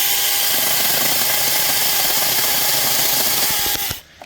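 A cheap cordless mini chainsaw cuts through a two-inch piece of wood, with a loud, steady, gritty buzz of the chain biting close up, then a sudden drop as the cut finishes and the motor winds down.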